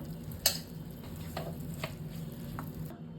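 Cashew and almond slices sautéing in a pan for modak filling, a steady low sizzle with a few sharp spoon scrapes and taps against the pan, no talking.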